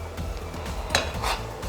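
A spoon scrapes and clinks against a metal steamer while lifting steamed kurakkan (finger millet) pittu out, giving a few light, close utensil taps and one brighter metallic knock.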